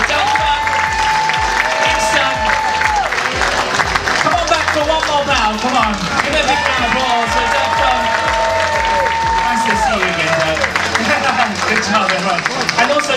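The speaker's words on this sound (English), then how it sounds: "Come on, give a big round of applause." Applause and crowd noise from a cruise ship show audience, busy and continuous under loud music with a rhythmic beat and a singing voice on top throughout.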